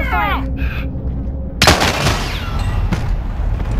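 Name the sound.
gunfire in the video game Call of Duty Warzone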